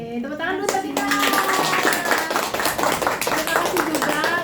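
An audience claps hands together in a steady, dense burst of applause at an indoor learning event, with children's voices mixed in and the clapping continuing throughout.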